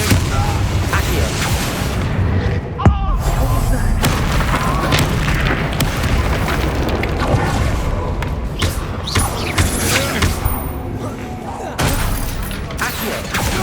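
Incendio fire spell blasts in the video game Hogwarts Legacy, loud repeated booming bursts over dense battle noise and game music, with voices shouting through the fight.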